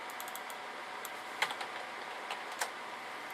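Keys pressed on a computer keyboard while using Windows 7 or 8, a few soft scattered clicks over steady background hiss, faint and close, with no talking.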